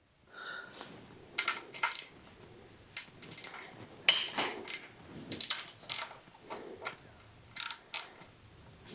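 An engine bolt being removed from an Indian Scout Bobber motorcycle with a ratchet, giving close bursts of metallic clicking in short irregular runs and separated by pauses, with no talk.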